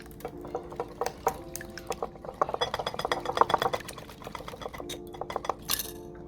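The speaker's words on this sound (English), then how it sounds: "I'm gonna go in right now with the milk." Milk poured into a bowl for French toast batter, a soft liquid trickle mixed with light clinks of dishes, close and fairly quiet, with no talking.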